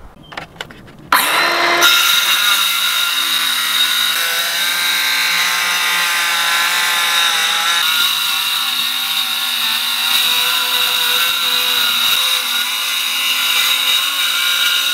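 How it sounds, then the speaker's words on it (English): Power saw cutting through plywood laid over polyiso insulation inside a Ford Transit cargo van, a loud, sustained whine that starts abruptly and runs on with slight shifts in pitch, close up and with no talking. "it'll cut through the plywood and maybe just to the top of the polyiso there"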